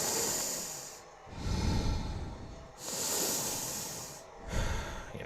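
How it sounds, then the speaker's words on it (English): Samus breathes heavily through clenched teeth in Metroid Prime 4: Beyond, with a few close, hissing inhale and exhale cycles that rise and fall in a slow, laboured rhythm. "she's like heavily breathing, but also breathing through her teeth"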